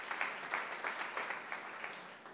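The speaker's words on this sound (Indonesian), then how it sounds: "Kita beri tepuk tangan yang meriah." A church congregation gives faint, distant applause, soft clapping swelling in loose bursts of a few beats each, with no voices over it.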